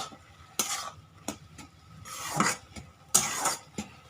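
A pan of food is stirred during a long cooking, heard as irregular scrapes and clinks of the utensil against the pan over a soft sizzle, with several distinct bursts and quiet gaps between.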